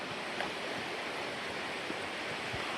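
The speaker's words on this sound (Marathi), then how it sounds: "तर वरनं पाणी वगैरे पडतंय" Water falls from above into a stream, making a steady, even rush of broadband noise that is fairly faint and continuous, with a few soft splashes and no speech.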